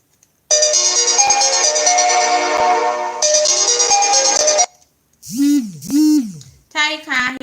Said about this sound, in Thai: เมื่อกี้มีสายเข้าเนาะ